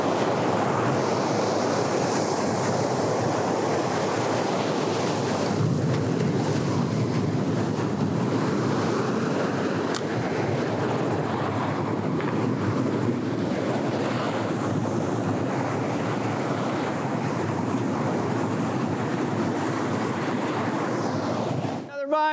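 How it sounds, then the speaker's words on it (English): Ocean waves crash and wash onto a surf-fishing beach, a loud continuous roar of surf mixed with wind buffeting the microphone, sustained for the whole stretch. "We got some crashing waves, so it makes it a little more difficult"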